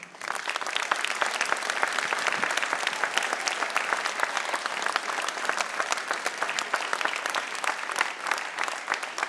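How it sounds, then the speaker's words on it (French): Dense, steady audience applause fills a hall during a mayor's New Year's address, holding at an even, loud level throughout with no talk over it. "On peut les applaudir"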